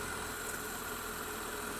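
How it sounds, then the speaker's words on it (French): BMW 1300 GS motorcycle engine running at a steady idle, a low continuous mechanical drone with a faint rhythmic knock, captured close and fairly quiet. "mon seul problème avec cette moto, c'est ce bruit"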